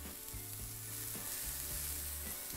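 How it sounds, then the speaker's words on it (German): Kohlrabi cubes roast in a frying pan with a continuous bright sizzle, broken by several stirring scrapes across the pan, close and fairly quiet, with no voices. "Den Kohlrabi röste ich für ungefähr 2 Minuten."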